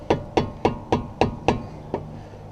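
Light hammer taps on a brake caliper bolt during front brake work on a second-generation VW Sharan: seven sharp metallic knocks at an even, steady pace, close and clear, the last one a little softer.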